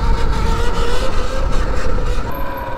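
A Sur Ron electric dirt bike motor whines steadily at high RPM, a loud sustained tonal hum over rumbling road and wind noise, with no talking.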